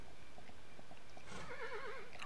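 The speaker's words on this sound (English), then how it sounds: "Come on, horse." A horse in the video game Kingdom lets out a wavering whinny near the end, preceded by soft clip-clop hoofbeats over a quiet ambient background, with no talk.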